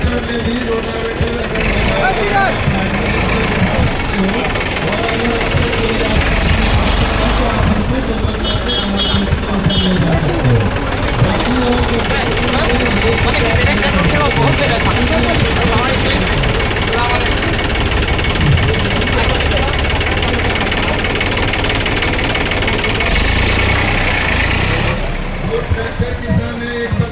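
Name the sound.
tractor engine running with rotavator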